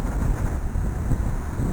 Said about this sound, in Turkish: Rüzgar çok rüzgar.